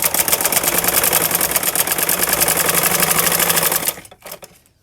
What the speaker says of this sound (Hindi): इसके ऊपर हम सिलाई लगाएंगे बिल्कुल किनारे के ऊपर से